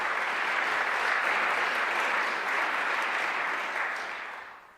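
Dense, sustained applause from a college audience during a governor's speech, a broad continuous wash of many hands that holds steady and then begins to fade toward the end, with no voices on top.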